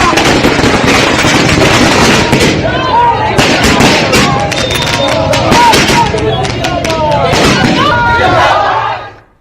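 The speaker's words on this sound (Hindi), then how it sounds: "सम्राट पहुंचे तो फिर पटाखे जलने शुरू हुए।" Firecrackers go off at a BJP celebration in Bihar as Samrat Choudhary arrives, a loud, dense barrage of rapid overlapping bangs with crowd voices and shouting mixed in throughout.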